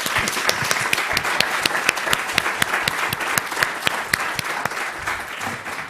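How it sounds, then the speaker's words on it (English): Conference audience at an audiovisual translation event giving a round of applause, sustained crowd clapping with sharp individual claps standing out, continuing evenly throughout. "Let's give a round of applause to Carol."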